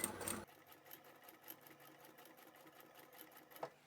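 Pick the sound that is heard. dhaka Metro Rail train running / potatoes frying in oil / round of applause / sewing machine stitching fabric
sewing machine stitching fabric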